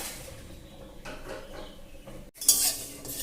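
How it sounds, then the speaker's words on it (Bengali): Whole coriander seeds and bay leaves frying in a hot wok, with light clinks of a utensil against metal and a soft sizzle, punctuated by a brief louder scrape near the end; no one speaks. "এগুলোকে প্রথমে আমি কড়াইতে একটু ভেজে নেব।"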